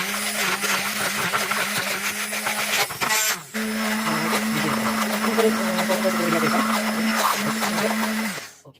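An electric beater or blender whirs continuously, close and loud, as it beats a condensed milk mixture for maska buns, with a brief pause midway before the motor resumes and then winds down at the end.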